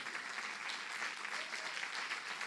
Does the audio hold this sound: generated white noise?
no